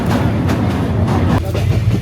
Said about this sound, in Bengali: তো আমরা এখন ট্রেনের মধ্যে আছি